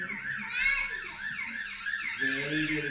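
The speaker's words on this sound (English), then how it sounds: "Very good, it's an ambulance now, Mirko." A toy ambulance siren wails in a rising and falling pattern during a children's classroom activity, fairly loud and continuous, with a voice and a low hum underneath.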